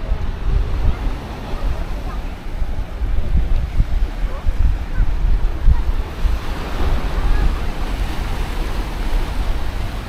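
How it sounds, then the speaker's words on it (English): Surf breaking along the Paphos seafront by the harbour at night, a steady broad wash of waves mixed with wind buffeting the microphone, continuous and fairly loud with no clear talk. "Get a bit of surf."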